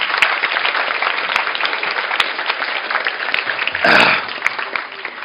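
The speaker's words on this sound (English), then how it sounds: "clap it up for these amazing leaders" A room full of people at a real estate sales coaching event applauds the leaders. The steady clapping carries on throughout, with a brief louder thump partway through.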